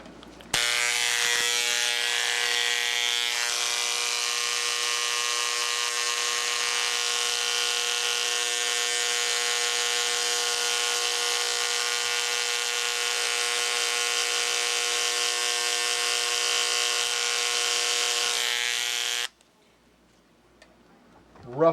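A power tool grinds steadily against the back of a model-engine prop washer, making a loud continuous high whine for nearly twenty seconds before cutting off into quiet.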